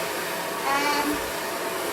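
A hairdryer whirs steadily at moderate volume while drying a dog during grooming, a continuous airy hum with no pauses.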